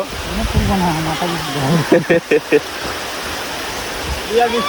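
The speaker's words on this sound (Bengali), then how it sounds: "ভাবতে পারিনি এত বৃষ্টি হবে গো" Heavy rain pours down at a pond bank as a constant hiss, while people talk over it and a few brief knocks sound in the middle.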